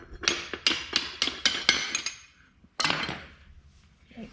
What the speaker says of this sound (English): I think if I just use a hammer,